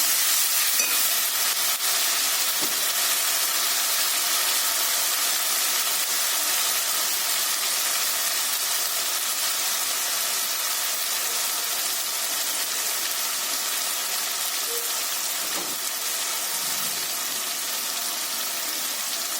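Ginger garlic paste fries in a hot pan and is stirred in, giving a steady moderate sizzle with occasional faint scraping taps and no voice over it.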